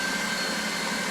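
An electric mixer whirs steadily through keto chocolate silk pie filling in a brief, continuous, close high-pitched motor drone with no pauses.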